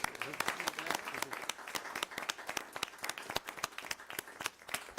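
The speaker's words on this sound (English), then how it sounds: "I think we ought to give him a round of applause." A round of applause at a county commissioners court meeting: moderately faint, distinct individual claps from a small group in a room, irregular and sparse rather than a dense roar.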